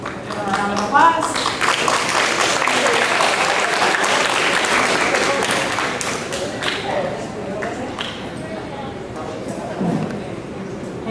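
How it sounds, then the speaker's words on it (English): A room of students and families at a middle school eighth grade awards ceremony claps in a loud, sustained round of applause that gradually thins out, with a voice speaking over the tail end. "Round of applause"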